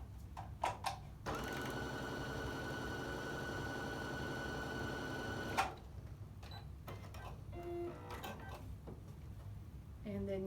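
Sewing machine stitching quilt fabric, a steady mechanical whir running for several seconds between scattered clicks and handling sounds, close and moderately quiet, with a voice talking around it.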